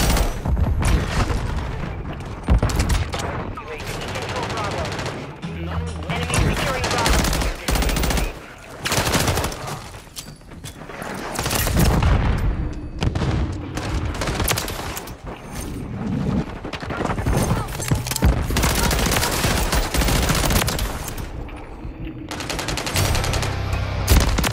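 Rapid automatic gunfire from Modern Warfare 3 multiplayer, near and loud, with dense bursts and booms nearly continuous, broken by brief lulls, with a voice talking over it.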